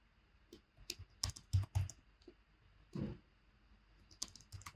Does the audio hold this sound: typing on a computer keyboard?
yes